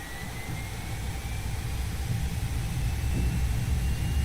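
Jet engines of a Boeing 737-300 spooling up to takeoff thrust on the runway in X-Plane 11, a steady, loud roar with low rumble and a rising whine that builds gradually and steadily.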